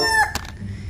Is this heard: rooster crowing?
yes